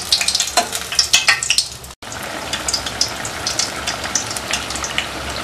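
Raw banana bajji fry in coconut oil with a bright, crackling sizzle, broken by stirring clatter early on, then settling into a steady close bubbling hiss with no voices.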